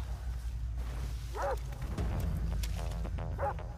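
Dogs in the video game Far Cry 3 let out a few short yelps and barks, spaced apart over a steady low rumble of game ambience.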